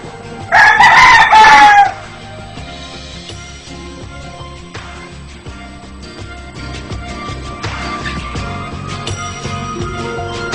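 A rooster crows loudly and close, one long call near the start, on a TV morning show set where decorative chickens and pigeons are kept, followed by a busy background of softer clucking, bird calls and studio noise.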